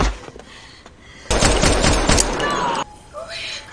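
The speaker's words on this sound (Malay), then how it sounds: "Beruntung Cat yang telah tiba di sana segera menembak Shinjo dan rekan-rekannya." Gunfire rings out in an action film scene: a loud, dense volley of shots lasts about a second and a half, with quieter sound before it and fading after.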